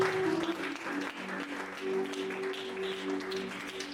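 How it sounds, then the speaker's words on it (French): A church congregation applauds during a Sunday service, a continuous wash of clapping from many hands. A sustained organ or keyboard note and faint voices run underneath. "donne une offrande d'acclamation pour Dieu"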